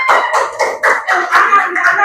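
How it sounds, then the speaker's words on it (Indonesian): A classroom group of students claps for a presenting group, a short burst of uneven near applause with separate hand strikes and some voices mixed in. "Boleh kasih tepuk tangannya?"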